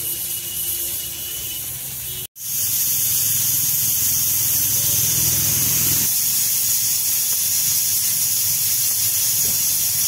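A pressure cooker full of rajma on a mud stove vents steam in a loud, continuous hiss with a thin whistle riding on top, broken only by one abrupt momentary cutout before the hiss resumes steadily.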